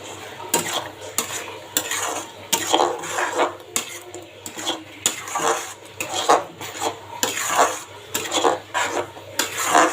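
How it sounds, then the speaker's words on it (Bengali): Papaya with spices being stirred in a pan: rhythmic, close scrapes and clinks of a metal utensil against the pan repeating every half second or so over a light sizzle, without any talking. "পেঁপেটা আমার ভালো করে কষিয়ে নিতে হবে"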